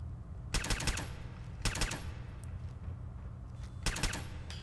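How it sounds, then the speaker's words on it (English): Three short bursts of rapid automatic gunfire in Fallout 4, each a tight cluster of cracks about a second apart, heard alone over a low steady hum at moderate distance. "Oh, somebody's shooting me."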